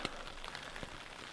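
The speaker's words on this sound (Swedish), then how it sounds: "Vi hann få upp tälten precis innan det började regna här." Rain pattering steadily on a tent pitched in the Hotagsfjällen mountains, a dense, soft hiss of drops with a few sharper taps standing out near the fabric, no voices.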